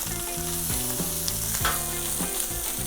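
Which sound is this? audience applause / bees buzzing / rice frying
rice frying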